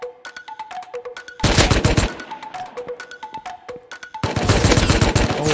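Gunfire in the survival game Rust: fast, loud machine-gun bursts in two long volleys, with sharp single shots and short beeping tones between them.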